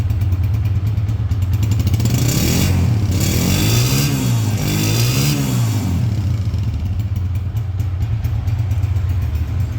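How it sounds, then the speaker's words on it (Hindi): A 2001 Honda 125 motorcycle engine idles steadily and loud, with a couple of rising revs in the middle before settling back to a constant thumping idle. "मोटरसाइकिल स्टार्टिंग सबसे पहले चेक होएगी"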